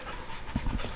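A young dog training to become a therapy dog pants quickly and close, rapid breathy huffs over a soft background hum, with no talking.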